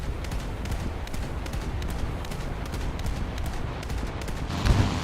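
Naval guns in a video game firing at aircraft on a US coastal vessel, a rapid continuous rattle of gunfire with dense repeated bursts, loud and steady for several seconds, with a heavier thump near the end.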